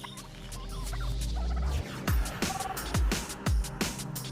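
An Australian brush turkey calls in the wild, giving a run of about five sharp downward-sweeping notes in an even rhythm, clear and close over a steady background hum.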